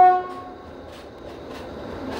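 A train passes at a station on the Oradea–Püspökladány cross-border rail route. A short horn tone sounds at the start, then a faint, distant rolling rumble, with no talking.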